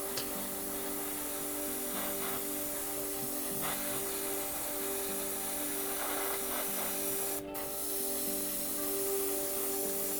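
Steady hiss of an aerosol spray paint can running continuously over a low mechanical hum, with a brief break near the end, moderately quiet, while painting an Airfix Hurricane model.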